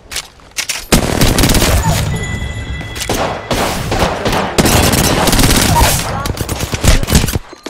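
Automatic weapon fire in the battle royale shooter Apex Legends, loud close bursts of rapid shots in several long volleys with brief gaps between them, dense and continuous.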